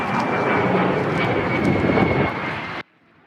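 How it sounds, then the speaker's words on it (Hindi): Loud, close roar of a US fighter jet landing during a NATO naval exercise, a steady rushing engine blast that cuts off abruptly near the end. "इस ड्रिल में अमेरिका के कई लड़ाकू विमान एक एक कर वहां लैंड करते नजर आए।"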